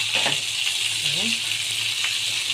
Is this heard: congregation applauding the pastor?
no